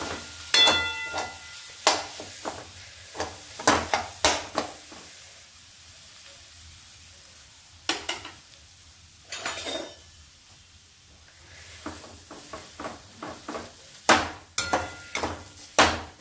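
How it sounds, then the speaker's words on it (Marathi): A spatula stirs boiled potatoes in a pan with the gas turned off, for aloo paratha filling. The scraping and tapping comes in irregular clusters of sharp knocks against the pan, close by, with quieter pauses between them. "बटाटा व्यवस्थित मिक्स करून घेते।"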